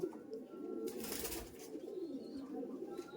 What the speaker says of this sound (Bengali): দেখুন পায়রা আলো বন্ধুরা